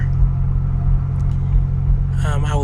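A steady low engine rumble inside a moving car during a podcast recording, continuous and close, with a brief voice near the end.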